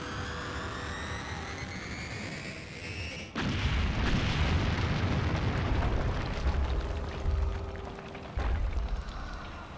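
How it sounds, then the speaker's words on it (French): The Well of Souls is destroyed in Kingdom of Amalur: Reckoning, a sudden deep booming blast that follows a rising whine and rolls on as rumbling debris and crackling for several seconds. "Et boum, le Well of Soul détruit."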